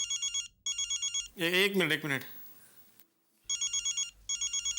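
A telephone rings in repeated double bursts, loud and close, pausing while someone briefly speaks, then ringing again.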